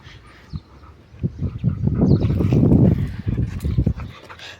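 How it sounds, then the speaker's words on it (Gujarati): A dog romping and causing a ruckus, breaking things, makes a loud, close burst of scuffling, thumping and rummaging that builds and then eases, with no clear barking. "કૂતરું પાછું તોફાને ચડી ગયું છે"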